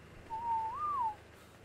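A single whistle command in the video game ARK: one clear, smooth whistled tone that rises slightly and falls again, about a second long over faint background hum.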